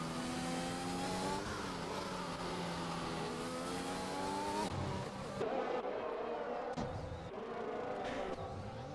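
Red Bull Formula One car in a racing video game, a high revving engine whine with shifting pitch, an abrupt change partway through as it spins, other cars' engines around it, quiet overall.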